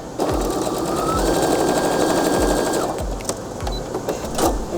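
Close and loud, a sewing machine fitted with a 1/4 inch foot runs in a steady, fast whirring stitch with a faint rhythmic thump underneath, easing off slightly toward the end.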